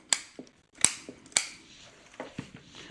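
Cutters prune a hard-cut-back azalea bonsai with crisp, close snips: three sharp clicks about half a second apart, each followed by a softer secondary click, then a few lighter snips. No one speaks.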